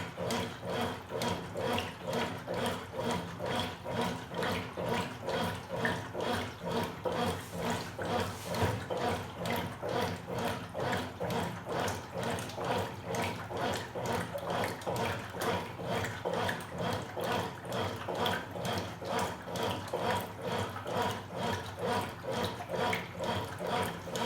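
A washing machine in its wash stage with water inside, churning in a steady rhythmic slosh that repeats about once a second and stays even and moderately loud throughout.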